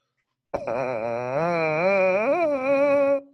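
A loud, strained brassy buzz on a mouthpiece with a resistance device, overblown, starts abruptly and holds for nearly three seconds, wavering in pitch with a rough, choked, forced quality.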